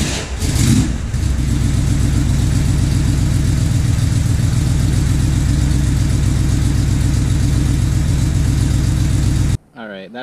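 A 1979 Corvette engine idles with a steady, pulsing low rumble after its carburetor mixture screw has been adjusted, loud and close, with a brief rev at the start before the sound cuts off near the end.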